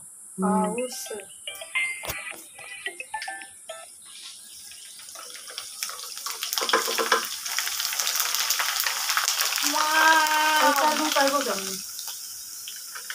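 Rice pours into a hot pan with a steady hiss and sizzle that swells and holds, a steel spatula clinks now and then, and voices talk and a tonal sound plays over it.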